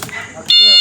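A sharp, loud electronic chirp from a car alarm sounds once near the end and holds steady, following a short stretch of quiet background voices.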